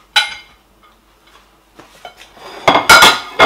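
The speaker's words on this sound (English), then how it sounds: "hold my okra like this and I start cutting like that" Okra is sliced with a knife on a kitchen surface for a fish okra soup, giving a sharp knife-and-board knock, a few faint scrapes and taps, then a louder cluster of cutting clatter near the end.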